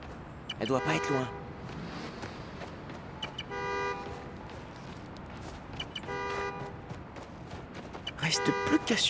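In Spider-Man: Miles Morales, a parked car's horn honks repeatedly in steady bursts a few seconds apart, moderately loud amid city ambience, while a voice talks between and over the honks.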